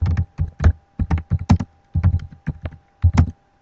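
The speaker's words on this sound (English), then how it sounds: "just type in what you want to think about this class" Steady typing on a computer keyboard, close and crisp, in quick bursts of keystrokes separated by short pauses, with no voices.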